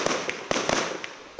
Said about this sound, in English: We like to think we have the best fireworks in the county, and they're shot right down in the valley there.